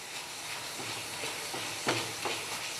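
Halwa with milk powder stirred in a hot pan, a steady soft sizzle and hiss with a few louder scraping strokes near the end.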